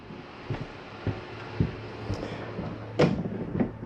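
An RV slide-out on a 2022 Highland Ridge Mesa Ridge 354MBH travel trailer retracts, giving a low steady motor hum with scattered knocks and clunks and a sharper thump near the end, close by and without speech.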